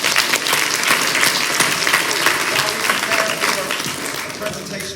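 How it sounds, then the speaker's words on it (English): An audience at a business conference applauds a panel, sustained crowd clapping that stays loud and full before gradually easing off toward the end, with a few voices underneath. "give these panelists a hand clap"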